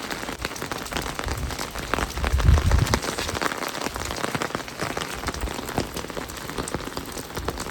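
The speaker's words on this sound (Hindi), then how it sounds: "कल से कंटिन्यूस इतनी ज़्यादा बारिश हो रही है" Heavy rain pours steadily onto surfaces, a dense continuous hiss with drops pattering throughout, no voices.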